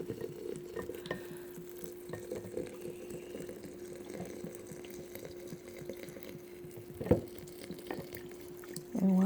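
Liquid is poured into a jar of lavender herbs, a soft trickling stream with light patter and one louder splash near the end, set against a steady low hum.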